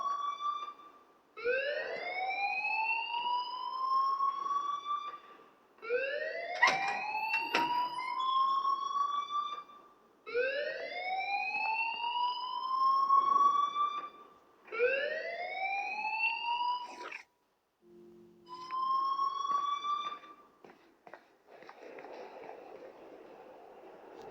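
A rising, siren-like school fire alarm wails through repeated upward sweeps in the Life is Strange video game, each swell lasting a few seconds with short gaps between, loud and continuous with no talk over it.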